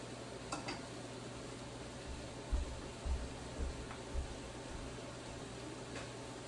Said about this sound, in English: I'm just going to stir those up into the butter a bit.